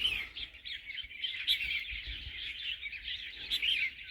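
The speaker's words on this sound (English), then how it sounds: "Lots of birds." Many birds chirping and calling steadily on a hillside path near the Chinese border in Hong Kong, a dense, continuous chorus of overlapping bright tweets with no talk over it.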